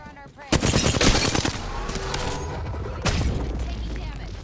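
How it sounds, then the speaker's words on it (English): Video game gunfire: a sudden loud burst of rapid automatic shots, then a second burst near the end, with a voice talking. "Opening fire on our prey."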